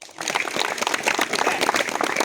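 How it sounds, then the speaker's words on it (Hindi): A school audience gives enthusiastic applause in memory of Louis Braille at a Braille Jayanti gathering, a dense burst of many hands clapping, loud and sustained. "तो लुई ब्रेल की याद में एक जोरदार ताली उनके लिए आप लोग"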